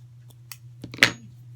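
Scissors snipping through pulled-taut fabric for a homemade face mask, a few quick close cuts ending in one crisp louder snip over a low steady hum.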